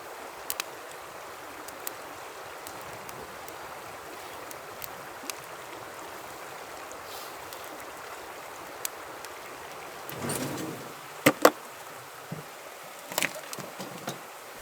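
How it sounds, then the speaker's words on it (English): Steady broadband rush of an Ozarks river flowing past a riverside camp, with sparse sharp crackles and pops from a campfire scattered throughout and a brief louder thump near the end; no talking. "the sounds of the fire and the river. This is the best."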